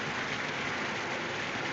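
Heavy monsoon rain falls on a flooded landscape in a 1939 drama, a dense, steady hiss that continues without a break and without voices.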